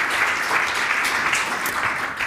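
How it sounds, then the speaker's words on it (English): An audience at a startup launch day pitch event applauds after a presentation, with dense, steady clapping that fills the room and carries on throughout. "Thank you. Applause."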